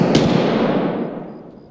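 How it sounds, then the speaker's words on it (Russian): A short, sharp burst of gunfire cracks out close and loud, then decays into a fading echo over under two seconds. "А, это с разных сторон стреляют."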